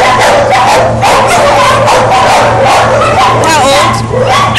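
A young male dog yips, whimpers and barks in short bursts indoors, close by, while people talk over it.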